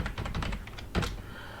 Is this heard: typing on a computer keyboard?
yes